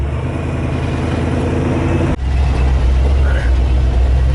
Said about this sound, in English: So he's got a flat tire, but he's gonna send it.